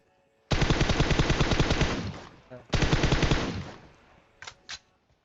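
Rapid automatic gunfire from an AWM sniper rifle in a mobile battle-royale video game, two long loud sustained bursts followed by a couple of short separate shots, with no talking.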